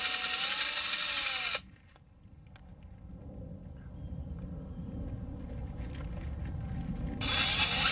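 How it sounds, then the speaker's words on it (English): A power drill bores 1/16-inch pilot holes for tiny screws while rear speakers are replaced in a 2012 Hyundai Veloster. Two loud, close whirring bursts, one at the start and one at the end, frame a quieter stretch in between. "I drilled a 1/16 inch hole for each of these little tiny screws."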